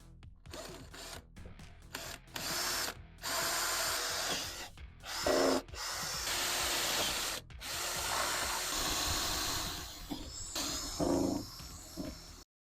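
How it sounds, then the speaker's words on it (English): A power drill bores bolt holes through a silicone mask mould, whining loudly in repeated bursts of one to two seconds separated by short pauses. "we've also drilled the holes into the core, our positive head form that's inside"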